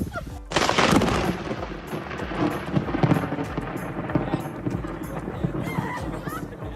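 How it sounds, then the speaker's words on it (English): A loud, crackling boom of thunder from a lightning strike bursts in and rolls on as a long rumbling roar that slowly fades, with a voice talking over it. "this groom managed to get an incredible effect when a lightning hit right after he said"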